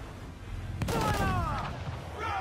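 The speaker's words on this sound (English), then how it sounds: "Cannon ready! Fire!" Ship cannon fire in Assassin's Creed IV Black Flag at sea: a single sharp, loud blast followed by a rumbling, decaying boom over steady wind and water ambience, with faint whistling tones trailing after.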